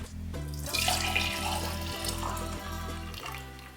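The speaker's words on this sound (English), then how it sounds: "Satisfying cacao pour." Brewed cacao drink poured in a steady liquid stream, a close, continuous splashing pour lasting a few seconds.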